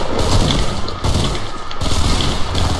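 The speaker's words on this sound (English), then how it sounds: "Yeah, burst rifles are horrible." Loud, continuous rapid burst-rifle gunfire from Fortnite, bursts blending into a dense barrage with brief dips, no voices.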